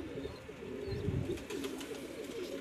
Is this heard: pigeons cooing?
yes